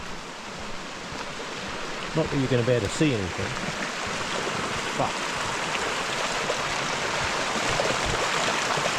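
Steady rushing water from a nearby creek fills the scene, with someone speaking briefly over the constant flow.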